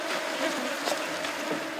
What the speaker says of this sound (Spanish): La nube de moscas en el lugar es agobiante.